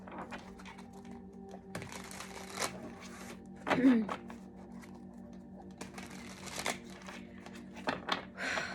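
Tarot of the Divine cards are shuffled in bursts of crisp riffling and tapping, several short flurries separated by pauses, with a voice talking softly in between.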